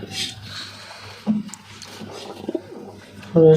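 Pigeons coo softly nearby, with a brief flutter of wings and a louder coo at the end.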